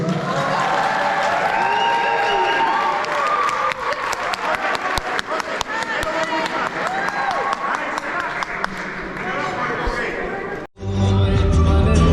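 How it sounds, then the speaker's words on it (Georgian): An audience claps in a dense, continuous burst of applause mixed with crowd voices and chatter, then cuts off abruptly near the end before a different loud sound takes over. "კიდე გვინდა აპლოდისმენტები"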